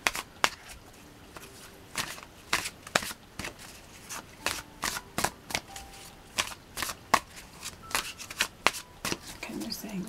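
Tarot cards are shuffled by hand in a series of quick riffling, flicking bursts, soft and close, with irregular pauses between handfuls and a quiet room behind.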